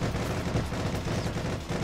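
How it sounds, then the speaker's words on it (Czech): Rapid bursts of automatic gunfire crackle continuously, dense and fairly loud, in a firefight in the video game Heroes and Generals. "A někdo na nás střílí."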